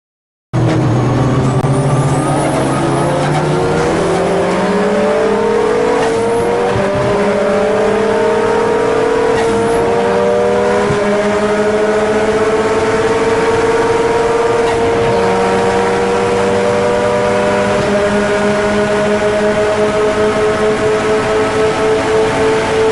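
Cars accelerate hard down a straight, one with a factory 6-speed transmission and one with a Kotouc sequential gearbox. The engines rev loudly and continuously and pitch up through several gear changes, with no talk.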